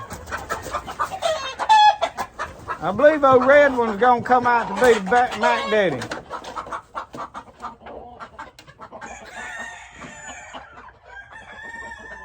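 Chickens in a chicken yard, with a rooster's loud drawn-out crow in the middle, scattered clucking and other hens calling around it, while someone talks over the birds.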